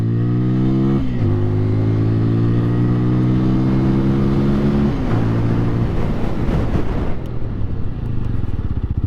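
A TVS Apache RTR 200 4V motorcycle rides past close and loud, its engine note stepping down through gear changes as it slows under braking, then rumbling at low revs.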